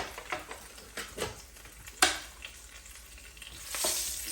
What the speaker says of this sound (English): Just gonna saute it a little bit. Don't let it burn.